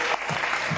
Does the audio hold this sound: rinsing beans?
no